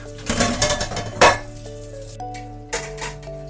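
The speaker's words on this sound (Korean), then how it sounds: "설거지를 하고" Dishes clink and clatter close by, with a few ringing metallic taps from pots and cutlery fading out.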